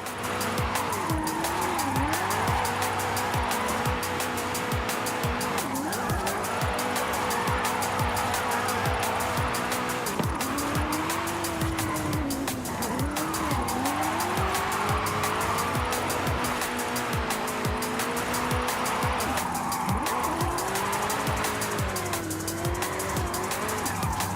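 Sustained tire squeal and engine roar from a car drifting in Forza Horizon 5, loud and continuous with wavering pitch sweeps as the tires slide, no talking.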